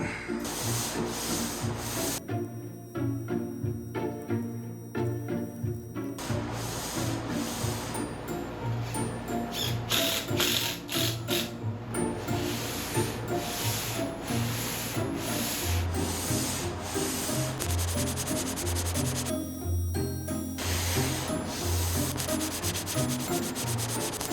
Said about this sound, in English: I made the most absolutely denominator 1200 long sanding pad.